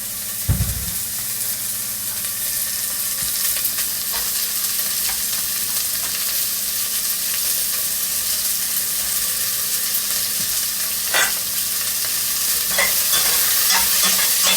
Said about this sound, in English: Just add a little bit of oil, not too much, to fry the onion.